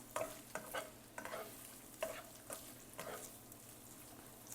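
Crumbled sausage browning in fat in a pan, with a soft sizzle under regular scraping strokes of a spoon across the pan bottom, about one every half second, fairly quiet and close.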